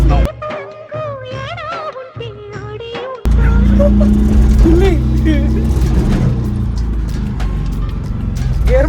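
An auto rickshaw engine drones steadily at close range while driving, loud and continuous, following a few seconds of someone singing or speaking in a sing-song voice before the engine noise takes over.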